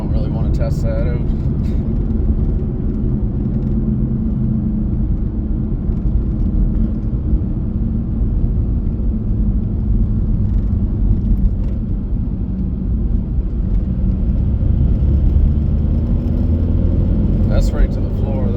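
A Volkswagen MK4 TDI diesel engine held at full throttle gives a loud, continuous, low rumbling drone heard from inside the car, with no clear break in the sound.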